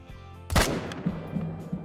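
A rifle shot fired at a cape buffalo in a hunting video game, one loud sharp crack with a short rumbling tail, followed by faint softer in-game sounds.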